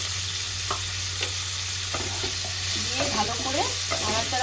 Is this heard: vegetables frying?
yes